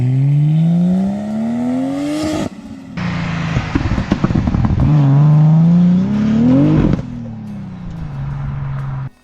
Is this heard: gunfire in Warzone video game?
no